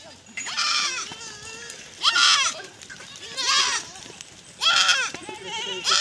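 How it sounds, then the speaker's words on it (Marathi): Several goats bleat loudly and repeatedly nearby while eating, calls overlapping in irregular bursts with quieter rustling between them. "बघा शेळ्या कशा पळ पळत सुटल्यात खाण्यासाठी"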